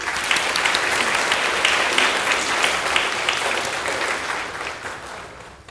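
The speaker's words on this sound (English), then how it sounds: "join me in a round of applause to welcome her to speak" Steady applause from the audience at a practical nurses' pinning ceremony, dense and sustained as a speaker is welcomed, tapering slightly toward the end.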